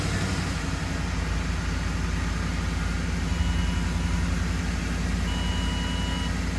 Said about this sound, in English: We're gonna go ahead and start up this Ford and see if we fix this misfire.